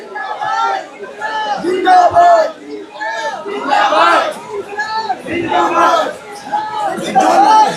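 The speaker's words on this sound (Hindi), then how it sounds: "आप देख सकते हैं जिस तरह से ये भीड़ सिर्फ आने वाली है और जाने वाली भीड़ है।" A large protest crowd gathers at Jantar Mantar in Delhi, with loud, dense overlapping shouts and chanting voices rising and falling in waves throughout.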